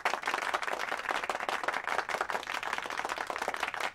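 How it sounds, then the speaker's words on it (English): Applause from a crowd, dense rapid clapping that rolls on steadily and evenly, moderately loud and close, with no talk over it. "just want to make sure you guys could actually hear the applause."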